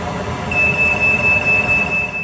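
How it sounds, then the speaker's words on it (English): A shrill smoke alarm beeps in a rapid, steady series, loud and close over low background hum, set off while heating pipe fittings with a torch on a central heating system. "there goes the good old smoke alarm"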